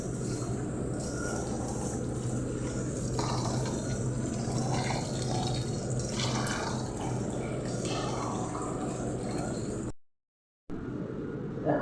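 Water pours and splashes into a container of rice being soaked for dosa batter, a continuous rushing fill lasting about ten seconds, then a short break and a brief final trickle.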